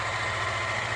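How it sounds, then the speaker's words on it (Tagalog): A large tractor engine runs loudly and steadily at idle on a farm, a deep rumbling drone with constant vibration and no pauses or talk. "Yung tractor kasi maingay talaga yung makina niya."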